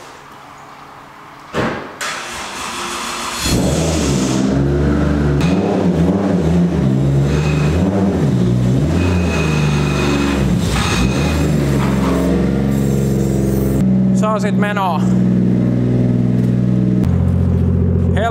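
A Toyota Chaser JZX100 driving, its engine a steady close rumble with rising and falling revs across most of the stretch, opening with a door-like thud and brief quiet before the motor takes over, and a short spoken phrase near the start.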